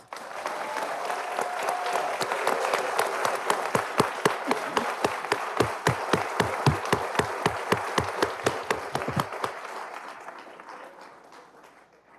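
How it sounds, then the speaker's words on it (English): An audience at a city council meeting applauds a state championship team, with dense, sustained applause plus strong rhythmic unison clapping that builds, holds for about ten seconds, then tapers off. "So let's give them a round of applause."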